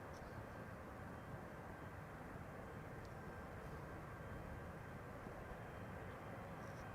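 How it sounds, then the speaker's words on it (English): A Cathay Pacific Airbus A350 bound for Hong Kong departs from the centre runway at Amsterdam Schiphol on a sunny day, heard as a steady, fairly distant broadband jet roar that holds evenly throughout, with no voices. "Now, Cathay Pacific A350 to Hong Kong is also sadly leaving from the center runway."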